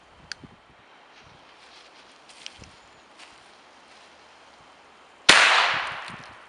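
A Komet SQ firecracker explodes in one sharp, loud bang followed by a decaying rumble, preceded by several seconds of quiet with faint rustling and small ticks.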